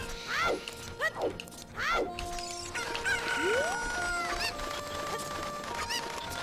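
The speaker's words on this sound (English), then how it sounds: "Right now I'm collecting chickens because I need a bottle." Chickens cluck and squawk repeatedly in quick, chirpy bursts with a synthetic, game-like quality, from Ocarina of Time on the N64, layered over a faint steady hum.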